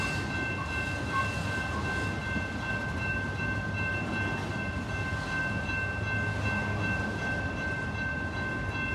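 Passing train in Plymouth, Michigan, a steady loud rail rumble with wheel noise and faint whining tones, continuous throughout with no voices.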